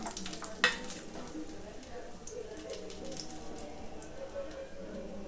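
Almonds fry in melted ghee for halwa with a steady, gentle sizzle and scattered crackles, plus a sharp clink from a stirring utensil near the start.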